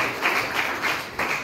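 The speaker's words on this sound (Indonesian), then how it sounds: "jadi tepuk tangan dulu buat Karina" A small group claps for Karina during a driving-instructor's traffic-rules lesson, a brief burst of steady hand claps with a few louder swells, fairly close, with no speech.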